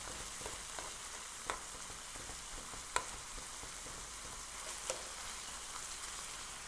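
Wild game hamburger browning in a skillet, a quiet steady sizzle broken by a few sharp spatula clicks and scrapes against the pan.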